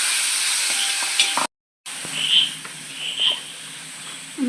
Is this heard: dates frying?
yes